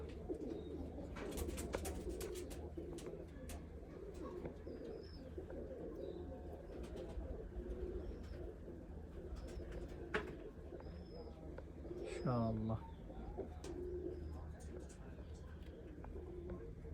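Pigeons coo in a breeder's loft, low throaty calls repeating amid chirps and rustling, with people talking nearby under the birds.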